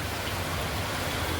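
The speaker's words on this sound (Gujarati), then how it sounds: "રિયલમાં જો વરસાદ ચાલુ થઈ ગયો છે" Heavy rain falls in big drops on a road in Rajkot, a steady, dense hiss of moderate loudness with no talking.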